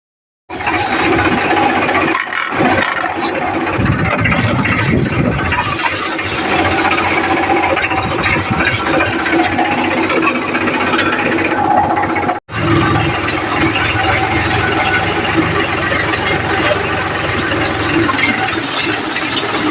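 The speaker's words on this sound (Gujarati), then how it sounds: "હું ટ્રેક્ટર લઈને આવી ગયો છે અમારા ખેતરમાં આંકવા માટે" A tractor engine runs steadily in a farm field where cotton is being ploughed, a loud continuous mechanical rumble with rattling and clanking, broken by one brief dropout near the middle.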